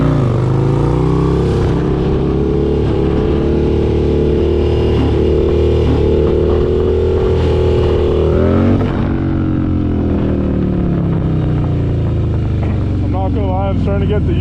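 Harley-Davidson Road Glide bagger motorcycle under way, a loud, steady engine drone with rising and falling throttle and heavy rumble, recorded close on the bike with a voice partly heard over it.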